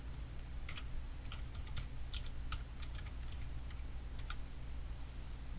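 Quiet, irregular keyboard typing: scattered soft key clicks in short bursts over a steady low hum, no voices.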